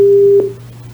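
A single steady telephone tone sounds for about half a second when a call to an official is cut off, then fades, leaving a low constant hum.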